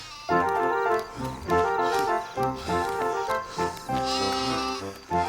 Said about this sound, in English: Get back with the other sheep.